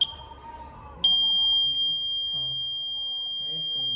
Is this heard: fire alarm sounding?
yes